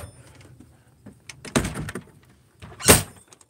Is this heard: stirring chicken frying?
no